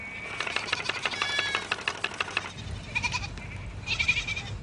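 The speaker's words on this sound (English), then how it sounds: "Oh, look at those sheep." Sheep bleating nearby, a couple of wavering calls in close succession followed by shorter bleats, fairly faint against a soft background.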